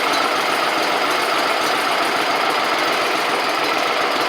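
A Gravely 260Z zero-turn mower engine idles steadily close by, a continuous broadband rumble with a faint knocking pulse and no talk.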